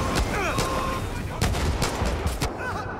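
Gunfire in Far Cry 6 fills the scene: repeated sharp shots and bursts crack over dense, loud action noise, with shouts and effects mixed in during a chaotic firefight.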